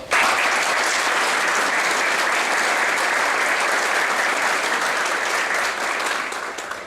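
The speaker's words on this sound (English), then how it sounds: "Please give these folks a round of applause." Sustained, dense applause from a banquet audience at a university spring reunion, loud and even throughout, tapering slightly at the end, with no talking over it.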